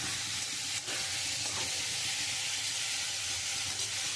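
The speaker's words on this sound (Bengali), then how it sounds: "আমি মশলা দিয়ে খুব সুন্দর করে কষিয়ে নিয়েছি" Spices cook in oil in a pan for a rohu fish curry with potatoes, making a soft continuous sizzle and hiss with a couple of brief clatters of stirring.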